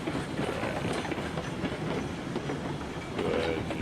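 A heavy freight train rolls steadily along the rails in the railroad video game RailRoads Online, a continuous low rumble with clicking wheel noise and a faint rising squeal near the end.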